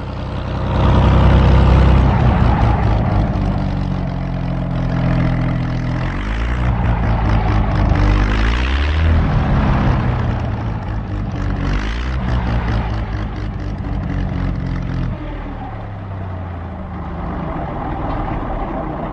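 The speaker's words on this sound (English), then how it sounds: "P-40, with 20 millimeters and a bomb rack." A P-40 propeller warplane carrying 20 mm cannon and a bomb rack drones loudly and continuously, its engine pitch sweeping and shifting as it passes and circles nearby for the whole stretch.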